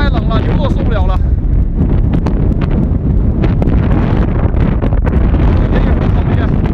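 A loud, continuous gust of strong wind sweeps over open countryside where cattle are grazing, a dense roaring rush that batters the microphone without letup, with someone speaking briefly at the start.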